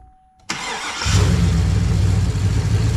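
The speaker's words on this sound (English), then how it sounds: "Mike's gonna go ahead and fire it up." An LQ4 6.0 V8 with a Texas Speed Heads cam cranks briefly, then catches and settles into a loud, close, lumpy high idle.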